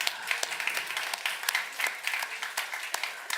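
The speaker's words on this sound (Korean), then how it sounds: "네, 박수 주세요" Scattered applause from a church congregation at a young adults' worship service, uneven claps rising and falling alone for a few seconds.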